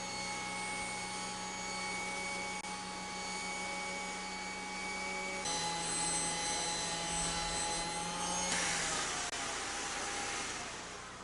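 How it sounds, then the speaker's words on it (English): A Kirby G3 vacuum cleaner with its sander attachment runs steadily and loudly with a constant whine, shifting pitch and turning rougher and hissier as the sanding pad is moved slowly across a surface. "move it over the surface slowly, allowing the sander to do the work"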